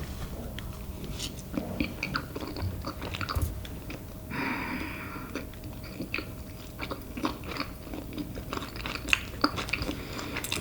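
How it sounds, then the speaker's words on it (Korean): Someone eats a chocolate sandwich up close, with soft bites and moist chewing and a few crunchy crackles spread across the stretch, no talking. "오케이, 먹어보겠습니다."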